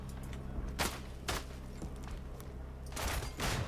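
Rifle fire in the World War I shooter Isonzo, set on the Italian front: a few sharp, loud cracks spaced apart, then a denser cluster of shots near the end over a steady low rumble.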